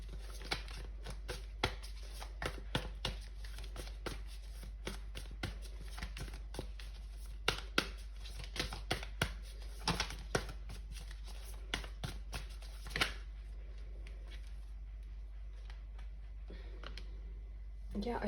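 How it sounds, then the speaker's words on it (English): Tarot cards are shuffled and handled for a reading, making a run of soft, close flicks and taps that stop, leaving quiet room tone. "We're just gonna pull one more card here."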